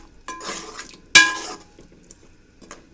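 Stirring tamarind gravy with punugulu in a pot, soft wet scraping followed by one sharp metallic clank of the spoon against the pot, then quieter movement.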